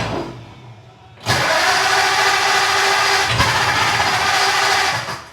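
A Ford Model A Roadster engine catches after a quiet moment, then runs steadily at a loud, rough idle with a brief blip midway, close by and continuous until it fades at the end.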